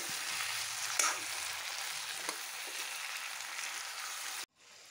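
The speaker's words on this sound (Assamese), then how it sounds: "মাংস ধুনীয়াকৈ ফ্ৰাই হৈ গৈছে" Mutton frying in a karahi gives a steady, fairly loud sizzle for about four and a half seconds, with a few soft stirring knocks, before it cuts out abruptly near the end.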